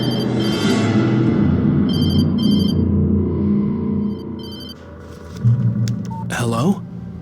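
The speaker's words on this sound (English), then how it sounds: "She was startled by the phone." A telephone rings within the dark thriller video game Alan Wake Remastered, its repeated bell-like tones in short bursts over a steady low ambient drone and game sound.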